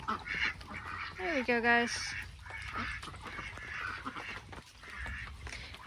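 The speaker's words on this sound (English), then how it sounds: "ducks are pretty easy to herd" A small flock of ducks quacks and honks close by while being herded into their house at dusk, with one clear rising call standing out amid a voice and rustling movement.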